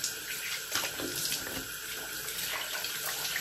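Water leaks and runs steadily in a bathroom, a continuous splashing trickle close by with no voices.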